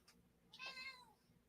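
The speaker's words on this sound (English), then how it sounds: "Did you hear the meow?" A single clear cat meow, rising then falling, heard close in an otherwise quiet room after a faint brief sound.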